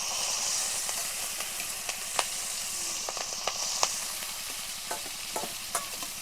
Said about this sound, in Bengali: তেল গরম হয়ে গেছে, এবার আমি চিংড়ি মাছগুলো তেলের মধ্যে দিয়ে দেবো।